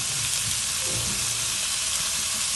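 Onions and peppers frying in a pan for a Moroccan batbout filling, giving a steady, even sizzle close to the pan that holds for the whole stretch with no talking.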